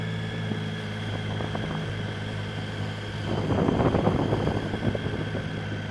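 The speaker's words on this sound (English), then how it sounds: "I've got a mic on the back seat to give you a little bit of engine noise" Motorcycle engine hum on a ride through Tokyo traffic, a steady low drone under wind noise that grows rougher and louder partway through.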